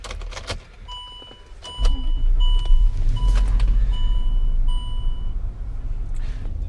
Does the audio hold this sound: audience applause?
no